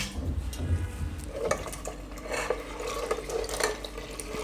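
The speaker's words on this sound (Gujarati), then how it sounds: "તો હવે આપણે આમાં વધારાનું બીજું પાણી નાખીશું." Extra water is poured into a pot of corn dal in a home kitchen, a splashing pour with light clinks of a pot and utensil, close and continuous with no talk.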